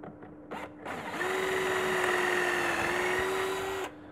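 A drill bores a dowel hole into a wood board through a KWB dowelling jig, one steady, loud whine lasting about three seconds with brief handling knocks before it.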